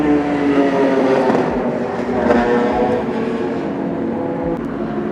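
A Nissan Skyline Hakosuka race car loops around turn 1 in a Japanese Idlers race, its engine a loud, continuous droning roar with shifting pitch, heard from trackside.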